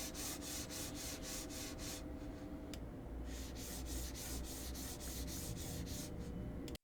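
A mouse slides back and forth on a Skypad 3.0 glass mousepad, a close, rhythmic scratchy rubbing in quick regular strokes, briefly pausing in the middle before resuming.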